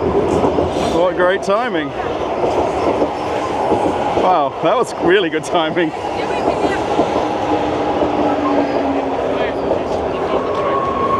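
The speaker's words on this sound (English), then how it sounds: "Have a look at the train going by." A train rolls past near a platform at the Children's Railway in Russia, with continuous loud rumbling and rhythmic wheel clatter plus brief squeals, while someone talks over it.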